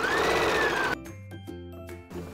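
A sewing machine stitches a t-shirt seam in a brief close whirring burst that cuts off abruptly, followed by quieter mechanical clicks and handling sounds.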